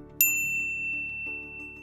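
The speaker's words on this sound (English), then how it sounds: "ring the bell to be notified about our latest videos" A single bright notification ding rings out once, clean and metallic, and then decays slowly over a quiet low hum.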